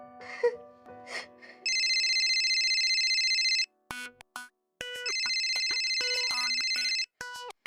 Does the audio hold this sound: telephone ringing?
yes